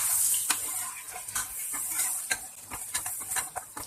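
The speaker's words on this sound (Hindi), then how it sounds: "इन मसालों को भी 30 सेकंड के लिए भून लेंगे।" Turmeric, black pepper and salt fry in a pan for mutton korma: a soft sizzling hiss with quick scraping taps from stirring, close and fairly quiet, with no talking.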